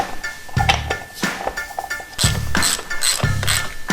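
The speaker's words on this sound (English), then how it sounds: "You can get the oil drain bolt back in next." A hand ratchet clicks in quick bursts while the oil drain bolt goes back into a Yamaha XJ650 Turbo, several close, sharp ratcheting runs with short pauses between them.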